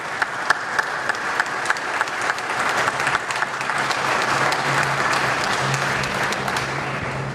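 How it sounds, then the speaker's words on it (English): A large audience applauds for the Boston Red Sox at a veterans career event: dense, steady clapping that swells and holds for several seconds, with no talk over it. "let's give the Red Sox a special round of applause"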